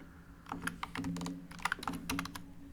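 Someone types NOT NULL on a computer keyboard: a quick run of close, crisp key clicks in small irregular bursts over a low background hum.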